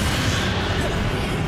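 A spell blast from Hogwarts Legacy fired mid-duel against Ranrock, heard as a dense, loud booming whoosh with heavy low rumble that holds steady through the short burst, mixed with game effects.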